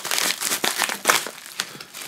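A padded mail envelope being opened with close, loud crinkling and crackling in quick, irregular bursts.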